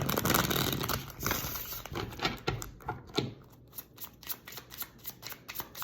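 Tarot cards being shuffled in rapid riffles, a dense crisp flutter at first that breaks into a string of separate snapping bursts toward the end.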